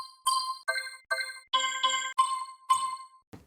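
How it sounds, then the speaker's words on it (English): Bell tree sample from the Astra sample pack: a run of bright, shimmering metallic chimes in quick successive strikes, each ringing briefly before the next, ending with a soft low rustle. "We have bell trees."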